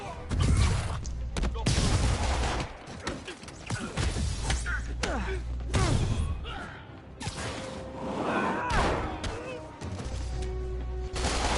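Gunfire in a Spider-Man video game, repeated sharp shot bursts and impacts scattered across a busy action scene, with a voice speaking at times amid whooshes and thuds.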